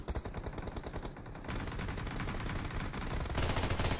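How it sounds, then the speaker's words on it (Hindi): Rapid automatic gunfire from the battle-royale game PUBG/BGMI, dense bursts of shots in quick succession that grow louder and busier toward the end, with no talk over them. "भाई इतना ज्यादा फायरिंग हो रही इनकी"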